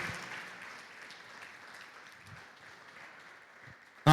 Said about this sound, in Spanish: Dale un aplauso al Señor, aleluya.